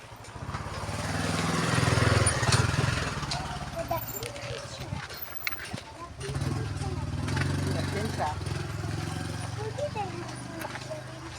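A motorcycle engine rumbles steadily nearby, its low drone rising and falling, with voices and clattering in the background.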